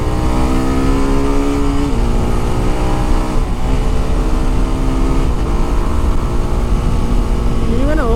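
A TVS Apache RR 310 motorcycle accelerates on a road in urban mode, its engine note climbing through steady rising pitch sweeps with shifts between, loud and close over continuous road and wind rumble.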